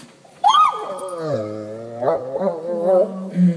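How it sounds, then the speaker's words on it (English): An unidentified animal, recorded in isolation, lets out a single long wavering howl that slides up and then falls into a drawn-out moaning growl, loud and close, with a short low rumble at the end. "it sounds like almost like a howling"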